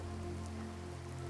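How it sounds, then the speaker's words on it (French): Torrential rain pours down in a storm scene of a Playmobil Bible story, a dense steady hiss filling the whole moment, with a low hum running underneath. "Et soudain, une pluie torrentielle se met à tomber."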